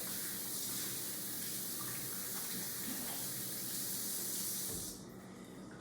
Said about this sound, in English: turn your water on, rub it all the way around your hands